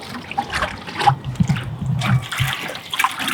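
Water poured from a small container in a rescue setting, giving uneven splashing and trickling bursts that rise and fall close by for a few seconds, with no voices.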